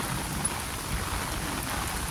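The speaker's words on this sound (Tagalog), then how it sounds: "masyadong malakas na yung ulan." Heavy rain pours steadily in Hong Kong among buildings, a dense continuous hiss of water hitting surfaces, loud and unbroken throughout.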